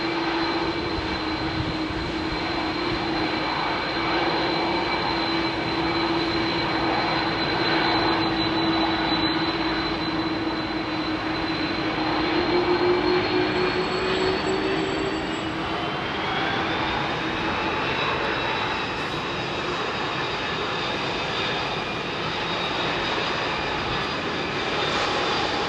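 A jet airliner departs London Heathrow's runway 27R nearby, a loud, steady engine roar with a rising whine that holds for the full stretch, with no voices over it.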